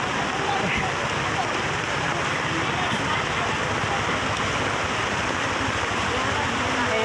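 Heavy rain on a walk to the market, a loud dense roar of falling water spread evenly throughout, with a voice faintly present beneath it.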